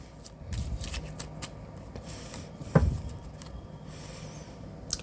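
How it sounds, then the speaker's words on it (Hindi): Tarot cards being shuffled by hand, a soft papery riffle and rustle with one sharper flick near the middle, fairly quiet and close with no talking. "last shuffle"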